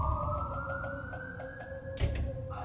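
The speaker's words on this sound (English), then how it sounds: "the emergency siren is going off" An emergency siren wails during Hurricane Irma in Miami, a steady rising tone sounding from a distance over a low rumble, cut by a brief sharp knock or creak near the end.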